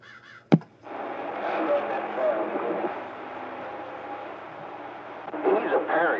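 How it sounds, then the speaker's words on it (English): A crow caws over a radio transmission, raspy calls coming through crackly static with a sharp click at the start and voices chattering across the channel. "I heard that crow coming up in my radio"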